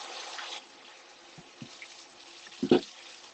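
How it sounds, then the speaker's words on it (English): Vegetables get washed under a running kitchen tap, a brief gush of water followed by quieter trickling and a few splashy drips near the end, close and fairly soft. "Always wash your vegetables."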